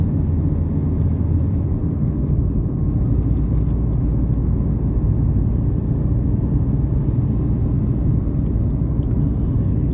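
A car drives along the road from Krasnodar toward the sea near Dzhankhot, heading to Arkhipo-Osipovka, giving a steady low engine and road rumble that fills the whole stretch without any talk.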